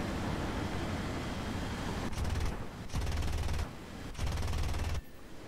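Aircraft guns firing in War Thunder, with a Me 262 jet in the fight: three rapid bursts of a couple of seconds each, cutting in over a steady roaring engine and wind bed.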